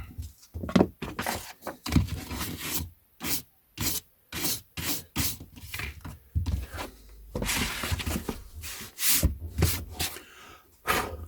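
Close, soft rubbing strokes erase a small mark inside a first edition hardback book, coming in quick repeated bursts with brief pauses, fairly quiet and without talking.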